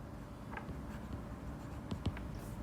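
Pen or marker writing on paper or a board during a maths lesson, a few soft scratchy strokes with two brief taps near the end, faint and close against a steady low room hum.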